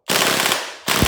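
A Gate ASTER-equipped airsoft gun rips a single short full-auto burst, a dense, loud buzzing rattle of BB shots up close, followed by the start of another burst.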